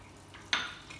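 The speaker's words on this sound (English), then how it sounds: "So I'm going to add some butter. First I'm going to cook the mushrooms" Mushrooms cooking in butter in a pan make a faint background sizzle, broken by a bright hiss burst halfway through and another sharp one at the end.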